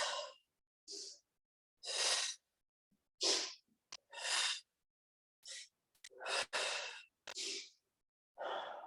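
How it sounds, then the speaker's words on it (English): Deep breaths drawn in and pushed out during a yoga stretch, a run of about ten loud, close, airy bursts separated by short silences, each strong and breathy, with no talking. "Breathe in, breathe out. Breathe in, breathe out."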